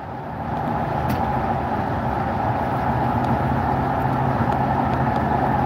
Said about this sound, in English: I'm actually driving, so I still need to pay attention to the road.